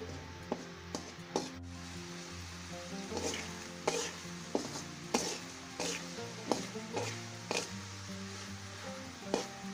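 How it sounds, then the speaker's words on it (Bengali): Prawns are stirred into fried spice masala in a pan, with a steady sizzle under repeated scraping and clacking strokes of the spoon against the pan, close and rhythmic throughout. "ভুনা করে নেওয়া মশলাগুলোর সাথে চিংড়ি মাছগুলো ভালোমতো করে মিশিয়ে দিচ্ছে।"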